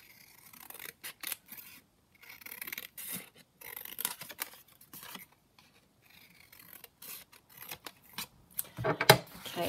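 Scissors cutting paper and sheet music for a handmade junk journal, a series of crisp close snips and slicing strokes in irregular bursts separated by brief pauses, with no talk.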